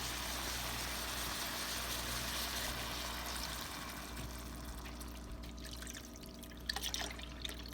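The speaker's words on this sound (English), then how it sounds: "is you add your milk." Milk poured into a pan of keto sausage gravy gives a steady, close liquid pour and trickle over a constant low hum like a stove fan, with a few faint clinks near the end.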